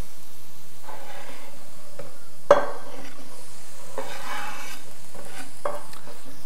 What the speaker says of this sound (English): And we'll throw in the green beans next.